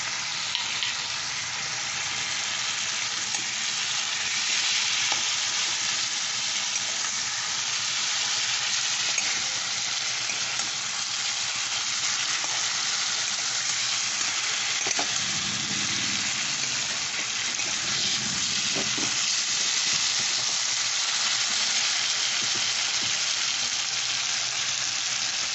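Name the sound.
tomato frying and being stirred for cauliflower dum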